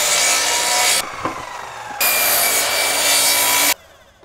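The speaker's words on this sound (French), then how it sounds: "Scie une rainure dans les planches du pont de la largeur d'un maillon de chaîne" A hand saw cuts a groove into wooden bridge planks in two loud, close, rasping bursts of rapid back-and-forth strokes, separated by a short pause with light knocks.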